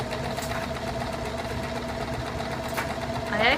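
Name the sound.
sewing machine running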